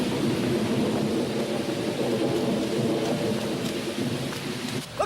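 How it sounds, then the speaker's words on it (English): Steady heavy rain pours down with low rolling thunder rumbling underneath, a dense continuous storm noise throughout. "It looks like rain."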